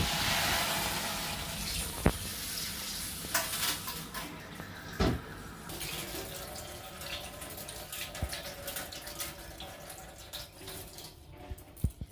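Horse gram being washed in a bowl of water, with running tap water and steady splashing, plus a few sharp knocks and clinks of the bowl, close and continuous for about twelve seconds.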